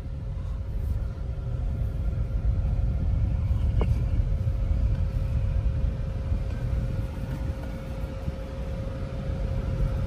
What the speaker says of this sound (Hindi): तो गाड़ी पार्किंग करते हैं और जाते हैं।